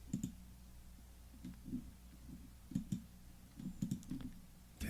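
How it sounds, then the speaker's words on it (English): Keys clicking on a computer keyboard as a command is typed at a Windows command prompt, with light irregular taps in small bursts, close and fairly quiet with no talking. "Then type in WSL install"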